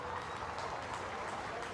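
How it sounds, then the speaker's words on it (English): A faint smattering of applause rises from a football stadium crowd near halftime of a Central Coast Mariners versus Macarthur match, distant and thin under the general crowd hum. "And a smattering of applause."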